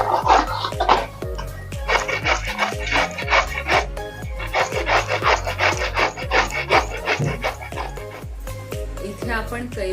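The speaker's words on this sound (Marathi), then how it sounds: "इथे आपण कैरी किसून घेतलेली आहे" Raw green mango rubbed against a metal grater set over a wide tray, giving steady rhythmic rasping strokes, close and fairly loud, repeated throughout with no speech over it.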